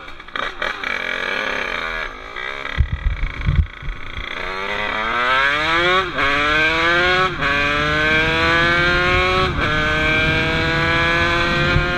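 A Beta 70 motorcycle with a new 70cc engine screams through its gears at full throttle, each climbing high-pitched whine cut by a quick shift before rising again, loud and close with a few early pops.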